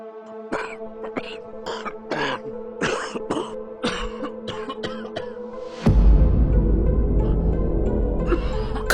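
A person coughs hard several times in a row, rough throaty bursts close by. A louder noisy rush follows.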